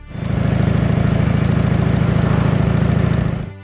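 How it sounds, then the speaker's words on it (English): Harley-Davidson motorcycle engine running steadily, a loud, continuous, throbbing exhaust rumble that holds even for several seconds and then cuts off abruptly. "the exhaust note of its own engines"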